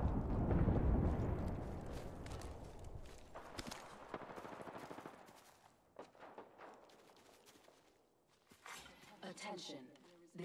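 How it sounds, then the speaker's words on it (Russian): Battle-royale video game gunfire: bursts of rapid automatic shots and single cracks, dense at first then thinning into scattered reports and footsteps, with someone talking over it. "Опа, вот и выстрелы."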